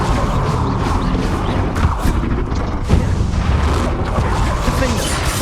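Fiery Incendio spell blasts in Hogwarts Legacy combat: dense, loud booming bursts and crashes roll continuously over a thick rumbling game mix, with stronger impacts near two and three seconds.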